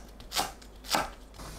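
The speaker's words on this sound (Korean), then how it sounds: "파를 어슷 썰어줍니다" Green onion is sliced diagonally with a kitchen knife, two soft, quick cuts against a board about half a second apart, close and fairly quiet.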